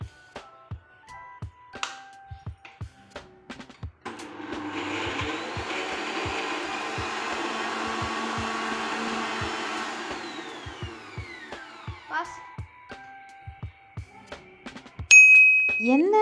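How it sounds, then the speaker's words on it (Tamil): A kitchen mixer grinder grinding peeled garlic and ginger, with no oil added, runs as a loud, steady whirring roar for about eight seconds, with sharp clicks and taps before and after. "வெறும் இஞ்சி பூண்டு மட்டும்தான் போட்டு அரைக்குவேன்"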